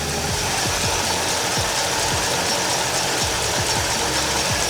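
A 1967 Chevelle's Chevrolet 283 V8 idles up close beside the valve lifters, a steady loud rumble with an even rapid pulsing beat and faint ticking from the valvetrain.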